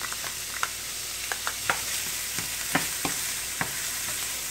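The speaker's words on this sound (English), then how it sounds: "with a few tablespoons of oil, we're going to saute up our onions" Onions sautéing in a few tablespoons of oil in a pan, a constant bright sizzle punctuated by sharp spatula taps and scrapes every second or so, close and alone without talk.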